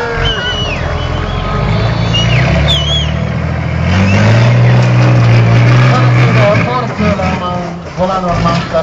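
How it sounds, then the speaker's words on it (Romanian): Samson monster truck at a show in Sibiu, engine revving and roaring as it drives over two Dacia cars in the middle of the track, with an announcer talking loudly over it throughout. "Iată, pregătește o trecere în forță peste cele două Dacia aflate în centrul pistei."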